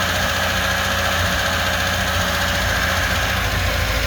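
A LADA 2104 car engine idles steadily at close range, a continuous loud rumble with an even mechanical beat and no voices.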